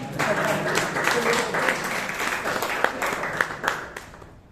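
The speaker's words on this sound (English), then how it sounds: "Can we have a huge applause for" Audience applause at a Toastmasters meeting in Bangalore, a steady wash of claps from a moderate crowd with a few sharper near claps, lasting several seconds with faint voices underneath.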